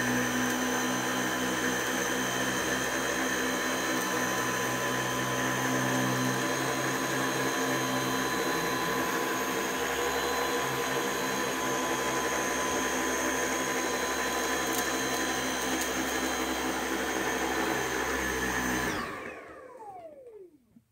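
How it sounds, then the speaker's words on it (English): Dyson V8 cordless vacuum cleaner running on normal mode over a ruffled rug, a loud steady motor whine with a high pitched hum held for about nineteen seconds before it powers down and winds off. "we're going to go over it on normal mode"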